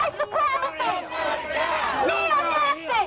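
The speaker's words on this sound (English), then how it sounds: "Manatee deputies in riot gear worked to control a crowd of hundreds, two rival groups face to face." A crowd of hundreds at a face-off between rival protest groups, with riot-gear deputies holding the line, sends up a dense, loud roar of overlapping shouting voices that swells and stays close, with no single voice standing out.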